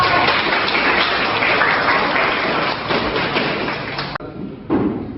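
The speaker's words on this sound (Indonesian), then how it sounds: "tepuk tangan untuk kita" A school class applauding together, dense steady clapping for about four seconds before it cuts off, followed by a brief scatter of a few claps.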